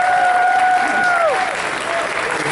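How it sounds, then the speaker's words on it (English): Loud, dense applause from a convention audience at a charity auction fills the whole stretch, with a couple of brief whistles rising over the steady clapping. "Please give a huge Everfree Northwest round of applause to Joe Cunningham."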